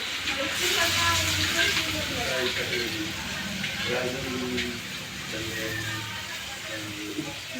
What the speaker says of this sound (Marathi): चला आता मी कांदा टाकून घेते। तेल पण चांगलं तापले।